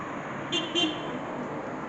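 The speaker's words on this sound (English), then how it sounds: "Somebody's honking at me." A car horn honks twice in quick short toots on a small-town main street, faint and somewhat distant over a steady background hum of outdoor noise.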